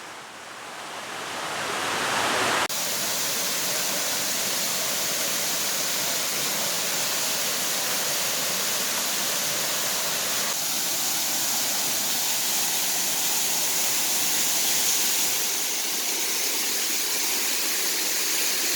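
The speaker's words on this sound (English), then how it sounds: "Juney Whank Waterfalls is the highest of the 3 waterfalls." Juney Whank Falls, a 90-foot two-tier waterfall at Deep Creek, pours in a dense, steady roar that swells in over the first few seconds and then holds loud and close throughout.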